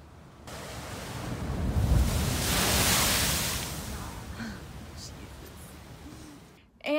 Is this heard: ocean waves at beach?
yes